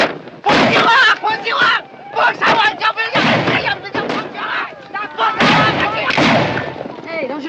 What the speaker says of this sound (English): Hey, don't shoot across the wagons.